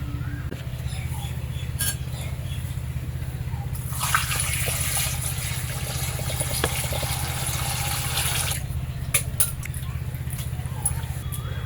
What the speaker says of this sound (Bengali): মাছ ধোয়া হয়ে গেছে